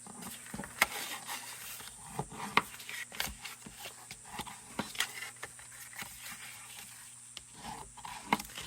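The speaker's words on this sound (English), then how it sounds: "We're going to go ahead and burnish on all of our folds," Paper box folds and score lines being burnished, producing soft, close rubbing and scraping strokes in an irregular rhythm with occasional sharper taps, all quiet and without talk.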